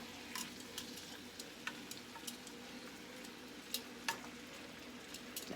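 Squash and zucchini cook quietly in a pan, giving a faint, steady sizzle broken by a few soft clicks and ticks.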